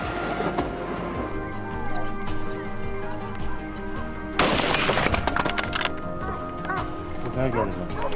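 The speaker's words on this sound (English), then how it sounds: "It took several shots before it was finally finished off." Rifle shots ring out during a wild boar hunt on a frozen, snowy mountain, one sharp loud crack standing out among shouting voices, dogs barking and other scattered impacts.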